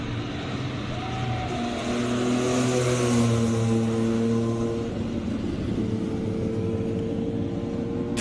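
Air-cooled flat-six of a classic Porsche 911 G-series at a Cape Town classic car event, revving up through a rising, harmonically rich howl that peaks and eases off, moderately near and alone.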